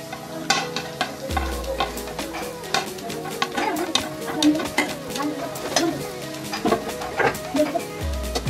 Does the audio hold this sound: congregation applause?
no